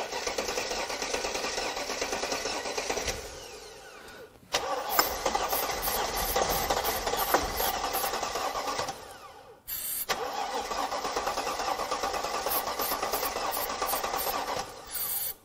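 A Mercedes CL55 AMG that sat unused for seven years cranks on its starter in three long, steady whirring bursts separated by brief pauses, loud and close with no talking.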